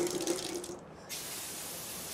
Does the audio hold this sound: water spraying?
yes